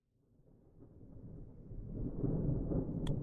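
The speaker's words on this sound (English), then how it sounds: "Oh, there's a storm." Thunderstorm in the video game ZERO Sievert, a low rumbling roll of thunder that swells steadily from faint to loud over a few seconds, with no talk over it.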